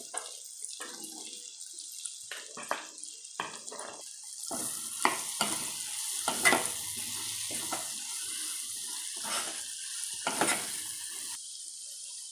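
Chopped cauliflower stalks tipped into a hot pan and stirred, a soft sizzle and hiss with a run of scattered scraping knocks, fairly quiet and without voices.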